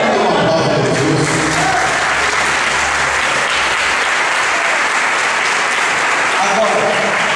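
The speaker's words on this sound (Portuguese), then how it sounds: "Dê uma aplauso para Jesus." A church congregation applauds loudly and steadily, a dense wash of clapping that fills the whole stretch, with some voices and cheers mixed in underneath.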